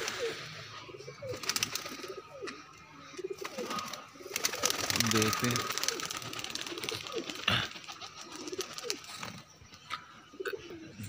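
Pigeons coo in soft repeated calls and flutter nearby while someone talks intermittently, with a brief burst of wingbeats and clattering in the middle.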